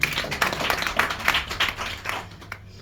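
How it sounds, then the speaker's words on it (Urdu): Applause at Adbi Dera literary gathering in Edinburgh, Scotland honouring a poet: a small audience's brisk, uneven clapping with distinct close hand claps, tapering off toward the end into near silence. "بھائی جان کے لیے بہت سی تالیاں۔"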